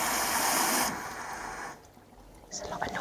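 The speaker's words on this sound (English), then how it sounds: "So that's filling up with water." A Whirlpool washing machine set to a 40-degree cotton wash fills with water: a loud hissing rush of inflow that drops off abruptly after about a second, leaving a quieter trickle with faint clunks toward the end.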